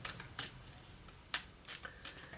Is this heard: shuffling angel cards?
yes